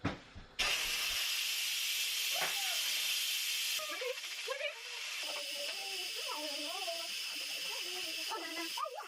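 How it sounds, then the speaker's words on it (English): An Instant Pot releases its pressure as a loud, continuous hiss of steam that runs almost the whole time, while a voice talks faintly over it. "Instant Pot is done. I'm going to let the air out now."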